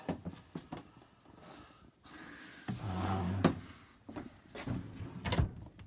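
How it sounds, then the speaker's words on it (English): Storage drawers under the dinette of a 2013 Lance 1172 truck camper slide open and shut, producing several quiet thumps, knocks and sliding rumbles at close range. "Slide out drawers underneath the dinette."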